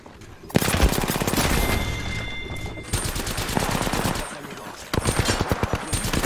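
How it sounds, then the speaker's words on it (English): Dense automatic gunfire fills the Apex Legends match in rapid overlapping bursts, loud and close. The shots come in several waves with short pauses between them. "I'm getting shot from both sides."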